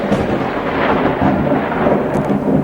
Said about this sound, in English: The rain is starting to come down again